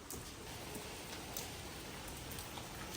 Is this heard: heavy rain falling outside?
yes